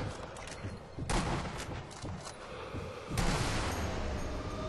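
Gunfire from the video game Sniper Elite V2, with two loud broadband shots about two seconds apart over a steady noisy game background, no talk.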